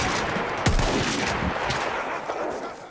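Bursts of rapid gunfire crackle from a weapon in a shooting video game, dense and loud throughout, with a couple of heavier reports early on and no speech.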